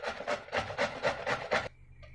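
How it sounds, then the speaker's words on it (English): Ash gourd (pumpkin) being grated for halwa, about six rhythmic rasping strokes, close and fairly loud, then a sudden stop into quiet. "See, the pumpkin we grated completely."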